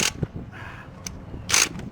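A ratchet strap handle is raised and released so the gate moves off the teeth, giving a few short, close metallic clicks and a brief scraping rattle in a quiet room.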